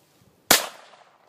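A single sharp, loud report from a pistol firing a domestic Teren-3 blank gas cartridge, with a quick decaying echo after the shot.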